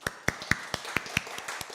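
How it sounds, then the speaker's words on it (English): A small group at a live workshop claps for a participant in sparse, distinct claps roughly every fifth of a second, close and crisp, with no voices. "Let's give Joe a round of applause."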